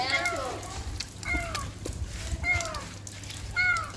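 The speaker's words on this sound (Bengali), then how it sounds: "বিড়াল ভিতরে" A kitten meows repeatedly, four short rising cries spaced about a second apart, heard close and clear over low background rumble.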